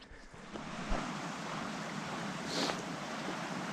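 Broadband rushing of a stream at a mountain trail crossing, steady and fairly close, with a few faint knocks and no voices.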